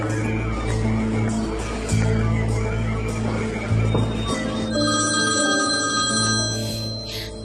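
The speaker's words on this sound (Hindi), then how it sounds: "फोन उठाओ" A telephone rings repeatedly in a steady electronic pattern, loud and close, with a low hum beneath and a brighter tone joining partway through.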